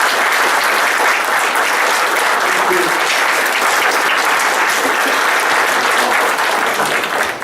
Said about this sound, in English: can we please give a warm round of applause for that?